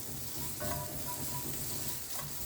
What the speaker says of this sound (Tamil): இதையும் நல்லா வறுத்துக்கணும்.